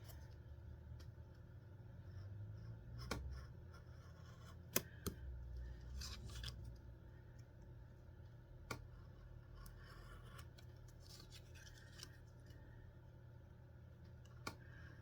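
Scissors trimming small cut-out paper pieces for a craft model, faint sparse snips and clicks spread over a low steady background hum, no voices.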